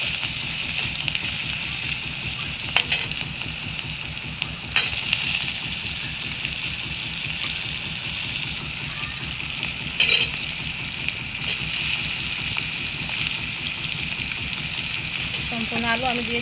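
Boiled potatoes frying with onion and garlic in a pan, giving a steady close sizzle with occasional stirring clinks and scrapes throughout.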